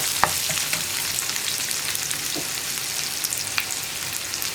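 Sliced onion sautés in a pan for a potato masala, making a soft continuous frying hiss with a few light stirring clicks scattered through it, nearby and without speech.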